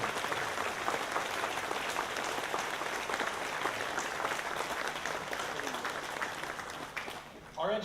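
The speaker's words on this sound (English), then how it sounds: "Round of applause for all of them." A crowd applauds school staff at a workforce center graduation ceremony, steady dense clapping that holds throughout and fades at the end, where a voice begins speaking.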